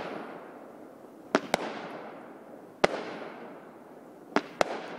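Fireworks set off over Ontario Place, seen from a cottage: sharp, distant booms arrive in pairs and singles, each trailing off into a long rolling echo, with no talking.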